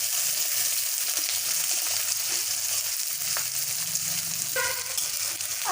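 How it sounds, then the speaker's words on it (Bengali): Onions frying in oil in a kadai with spices, a steady close sizzle with light crackling and a brief clatter of stirring near the end, with no talking. "পেঁয়াজগুলো দিয়ে দিচ্ছি, একটু পেঁয়াজগুলো লাল করে ভেজে নেব।"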